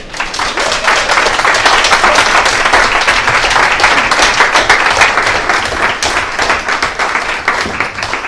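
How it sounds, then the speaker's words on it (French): An audience at a festival breaks into loud, dense applause for a speaker, many hands clapping close and continuous for the whole stretch without letting up. "Applaudir André Maviel"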